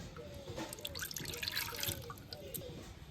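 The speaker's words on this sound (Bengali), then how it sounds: "এই বাটির মাপে এক বাটি জল নিয়ে নেব" Water trickles and splashes into a bowl for bread dough in a village kitchen, a steady close pouring sound with small drips that runs throughout.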